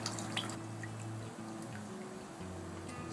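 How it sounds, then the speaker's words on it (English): Water drips and trickles steadily from freshly harvested spirulina paste as it is gently squeezed through a screen, a faint, continuous patter close by with a low electrical hum beneath. "unclip the screen and squeeze out the rest of the water"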